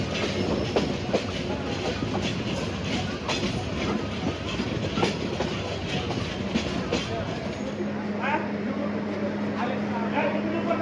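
The Kishoreganj Express rumbles steadily with rhythmic clattering and occasional squeals at Bhairab railway station in Bangladesh, a continuous low mechanical noise throughout.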